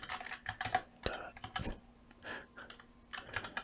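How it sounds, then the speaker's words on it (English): Rapid typing on a computer keyboard while coding a guessing game, with close, crisp key clicks in quick irregular bursts. Soft whispering sits underneath in an intimate ASMR setting. "I saved a lot of typing"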